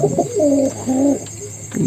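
Bombay pigeons on a pigeon farm coo in a close, steady series of low, rolling calls, several throaty phrases repeating one after another with no talking.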